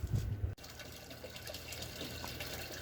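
Water pours steadily from a trash-can filter running on a fish pond, a faint continuous splashing and trickling flow after a brief louder burst at the start.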